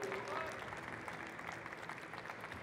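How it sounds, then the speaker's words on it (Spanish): Audience applause at a logistics industry conference welcoming a speaker to the stage, a fairly quiet, steady wash of clapping with some faint voices mixed in. "recibamos con un fuerte aplauso a Juan Cardona."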